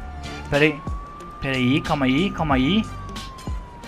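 A steady police siren wails through a Minecraft GTA-style video game, sweeping continuously in the background while someone talks loudly over it.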